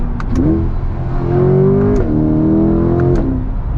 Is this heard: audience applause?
no